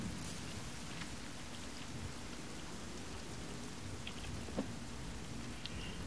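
Steady rain pours down in the survival video game The Forest, a soft, even hiss with faint rumbles of thunder in the background and no voices.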